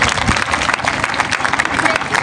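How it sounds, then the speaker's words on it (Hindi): Audience applause at a school annual function and award ceremony, a dense, steady wash of many hands clapping together throughout, loud and close with some crowd noise mixed in. "सब छात्र छात्राओं के लिए ताली बजाइए"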